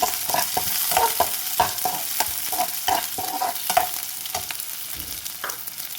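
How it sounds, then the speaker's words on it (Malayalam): Curry leaves sauté in hot oil in a pan for a grandmother's fish curry, giving a steady close sizzle broken by repeated scraping and clinking strokes as the pan is stirred. "പിന്നെ കുറച്ചൊരു കറി ലീഫും കൂടി ഇടാം. എന്നിട്ടൊന്ന് സോട്ട് ചെയ്ത് കൊടുക്കാം."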